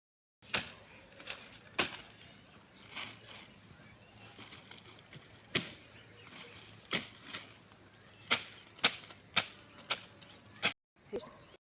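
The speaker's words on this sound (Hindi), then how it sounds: "छोटी छोटी सी टहनियाँ काट के दिखाती हूँ आप लोगों को झाड़ू कैसे बनाती हूँ मैं" Small twigs being cut with a sickle for making a broom, outdoors in a forest: a series of sharp, close snapping chops at irregular intervals, some louder than others, over a soft rustling background.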